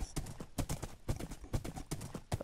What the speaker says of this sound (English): I found so many horses.